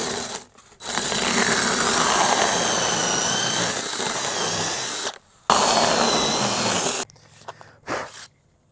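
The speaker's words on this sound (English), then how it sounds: "We're gonna put this to our drill and just drill it all the way down like that." Power drill driving a 1 1/8 inch spade bit down through PVC, a loud steady high whine running several seconds, briefly stopping, resuming, then cutting out in short bursts.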